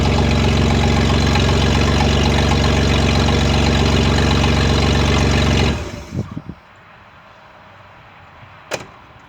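A loud, rough 1988 Ford F-150 engine with no exhaust fitted idles steadily up close for several seconds, then cuts off, followed by a few knocks and a door-like thud in the quiet.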